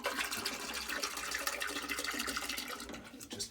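Concentrated antifreeze pours into a boat's seawater tank in a continuous gurgling, splashing stream, close and fairly faint, with no voices.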